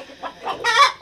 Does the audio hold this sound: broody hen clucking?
yes